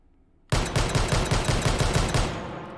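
A Desert Eagle .50 AE pistol fitted with a stock and muzzle brake fires in the H3VR video game, a loud rapid string of about a dozen evenly spaced shots that begins abruptly after silence and rings off at the end.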